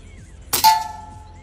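An airgun pellet strikes a metal target with a single sharp clang, followed by a ringing metallic tone that decays over about a second.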